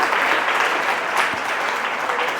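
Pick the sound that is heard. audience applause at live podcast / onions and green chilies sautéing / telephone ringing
audience applause at live podcast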